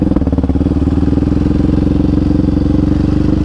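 A Yamaha Raptor 700R quad runs close and loud on a trail ride in Florida's Ocala National Forest, its single-cylinder engine thumping with a fast, even pulse and a steady rumble.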